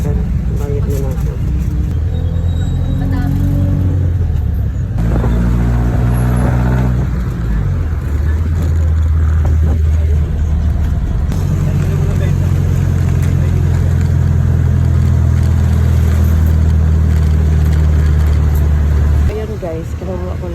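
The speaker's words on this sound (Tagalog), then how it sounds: "Ayun guys, nakasakay naman sa jeep papuntang 13. Ayun, pero hindi pa naandar." A jeepney bound for 13 idles with a passenger seated inside, its engine a steady low rumble that settles in after a few seconds and holds until near the end, with voices talking nearby.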